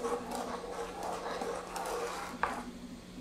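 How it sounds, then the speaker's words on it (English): Caramel fudge mixture stirred in a pan over a low flame, a soft continuous scraping and rubbing under a steady background hum, with one sharp knock of the utensil against the pan near the end. "Now put the flame down and then keep on stirring about 5 minutes."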